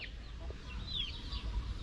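Chickens cluck softly near their newly built coop, with brief higher calls over a steady low rumble of background noise; no one speaks.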